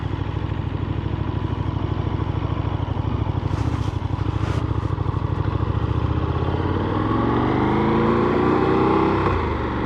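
A KTM 1390 Super Duke R Evo motorcycle ridden with a stiff clutch and no quick shifter, its engine droning loud and steady throughout, with the pitch climbing near the end as it accelerates.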